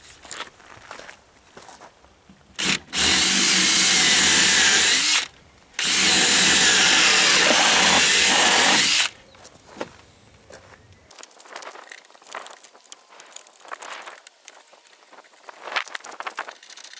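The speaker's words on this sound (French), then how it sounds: "Et après la chapelle, je perce à 12 mm." Power drill boring 12 mm holes in wood while building a raised hugelkultur garden bed, two loud sustained whining bursts with a short pause between, then quieter rustling and footsteps.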